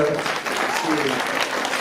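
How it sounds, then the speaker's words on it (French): An audience at a spring poetry event in Vence applauds steadily for a woman named Sabine, a dense, even wash of clapping throughout. "je vous demande à nouveau des applaudissements pour Sabine"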